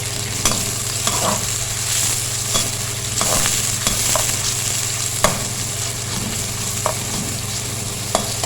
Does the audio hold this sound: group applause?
no